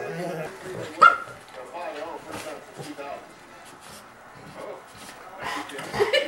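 A puppy and a large golden retriever indoors, with sharp barks, yips and whimpers breaking out in short bursts, one loud bark standing out, while people talk over and between the dog sounds.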